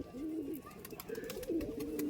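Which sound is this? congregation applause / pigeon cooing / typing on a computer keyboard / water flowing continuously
pigeon cooing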